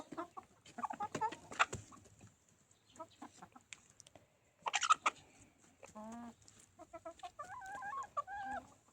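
Farmyard hens pecking at pumpkins cluck in soft, scattered bursts, with a few short calls and a longer warbling cackle near the end, faint and fairly close.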